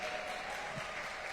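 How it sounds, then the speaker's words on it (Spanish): A church congregation applauding, a faint and steady wash of clapping. "Denle un aplauso fuerte al Señor"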